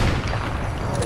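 A Fortnite explosive sniper rifle firing, a dense boom with sustained low rumble filling the whole moment, loud and close, with no clean separate report.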